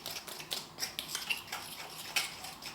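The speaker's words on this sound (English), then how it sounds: "So guys, we are going to mix it like this." Thick donut batter beaten by hand in a bowl gives a steady run of soft clicking, scraping strokes, close and fairly quiet, with no talking.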